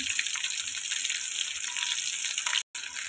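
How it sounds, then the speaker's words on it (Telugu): Fish pieces fry in oil over medium heat, giving a dense, continuous close sizzle with a brief break near the end. "ఇలా ఫ్రై అవుతున్నాయి కదండి, రెండో వైపు కూడా టర్న్ చేసుకున్నాం స్లోగా."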